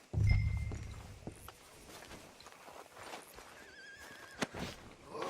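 A horse in the Red Dead Redemption 2 video game whinnies loudly up close at the start, then its hooves thud and clop unevenly at walking pace.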